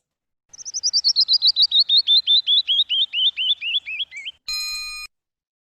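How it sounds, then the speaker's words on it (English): A canyon wren sings near Lake Tahoe: a clear, bright cascade of about twenty whistled notes that step steadily downward in pitch and slow slightly, followed by a short electronic tone. "the canyon wren sounds like it's sliding down the canyon."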